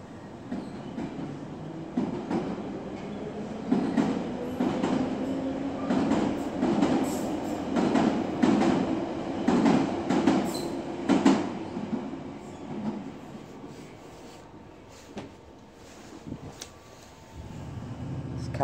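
London Underground Piccadilly line train running between Oakwood and Finsbury Park, heard from inside a carriage: a continuous rumbling roar with rhythmic wheel clicks and rattles, rising and easing as the train travels.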